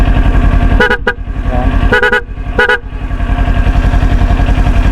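A car horn honks in three short bursts, a quick double toot followed by two single blasts, over a steady idling engine.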